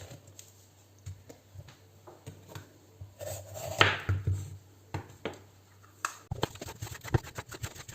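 Knife chopping bell pepper and dill on a cutting board, irregular sharp taps at close range, sparse at first and quickening into a faster run of cuts near the end, with a low steady hum underneath.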